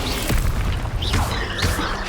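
A Levioso spell cast in Hogwarts Legacy gives off a loud booming burst with swooshing magical sweeps, sustained over about two seconds with no voices.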